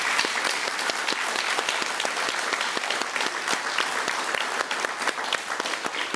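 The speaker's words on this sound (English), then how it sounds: "Let's give them a round of applause." A school audience at an Eastern Heights event gives a steady, full round of applause, dense overlapping claps sustained throughout at an even level with no talking on top.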